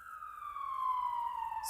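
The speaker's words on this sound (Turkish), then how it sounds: "Siren sesi yankılanıyordu." A siren wails, its tone sliding slowly downward over a couple of seconds, clear and steady with nothing else around it.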